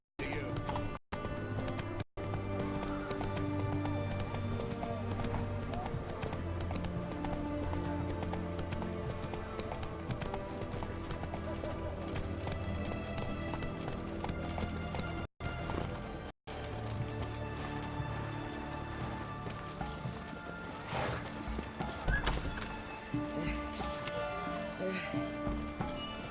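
Roach, Geralt's horse in The Witcher video game, trots with steady clip-clop hoofbeats under a continuous music bed and game ambience, with voices talking now and then.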